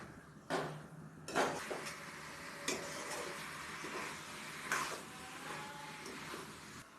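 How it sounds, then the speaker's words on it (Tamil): Country chicken stirred and sautéed in a pan, with a soft steady sizzle and occasional scraping clinks of a spoon against the metal, close and quiet, with no talk. "போட்டு நல்லா மிக்ஸ் பண்ணி விடுங்க. 5 நிமிஷம் நல்லா வதக்கி விடணும்."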